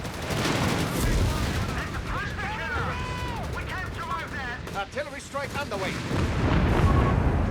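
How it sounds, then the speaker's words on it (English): A zeroing artillery barrage in Company of Heroes 3, a US versus Wehrmacht 1v1 match, thuds and booms among rattling gunfire, while a commentator talks over the battle. "Calls in the zeroing artillery just for a final hoorah here."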